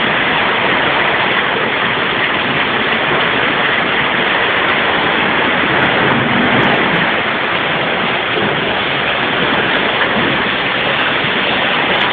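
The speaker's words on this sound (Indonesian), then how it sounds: "Di dalam gua laut terdapat air terjun." A waterfall inside a sea cave pours in a steady, dense roar of rushing water, loud and unbroken throughout with no voices over it.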